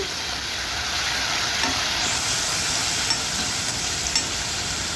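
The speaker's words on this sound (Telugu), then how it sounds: "సోయా సాస్ కూడా వేసుకొని ఇవి మంచిగా కలిసే వరకు కలుపుకున్నానండి" Soy sauce being stirred into a pan of restaurant-style Apollo fish fry, with a steady, close sizzle and frying hiss running throughout and faint scraping stirs over it, no talking.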